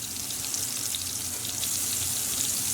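Danish frikadeller, meatballs cooking on medium heat in a pan, give a steady close sizzle of frying with constant crackling and popping that runs evenly throughout, with no talk.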